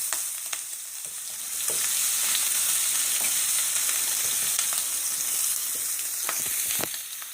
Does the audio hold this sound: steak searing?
yes